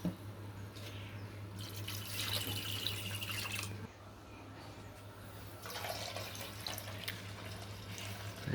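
Water running and splashing while wheat flour dough is washed by hand in a bowl, a steady low trickle with sloshing surges throughout.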